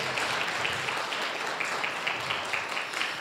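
A church congregation applauds during a worship service, a dense, even wash of clapping at moderate volume throughout.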